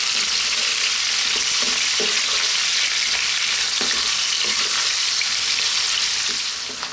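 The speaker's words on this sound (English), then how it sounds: "And again, about 2 minutes, 3 minutes. Let's fry these around" Cabbage, potatoes and garlic frying in a pan, a loud continuous sizzle of hot oil with occasional soft knocks and scrapes from stirring, close up and without talk.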